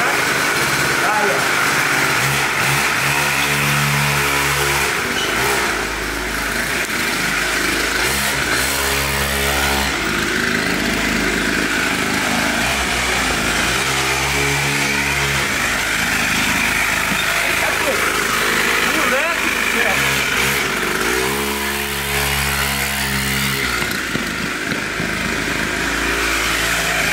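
A small mini motorbike engine revs repeatedly in loud surging bursts every few seconds over a steady idle, close by and dominant, with people talking over it.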